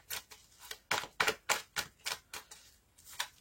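Tarot cards being shuffled by hand, a rapid series of crisp, close riffling flicks about every quarter second, dry and clear with no voice.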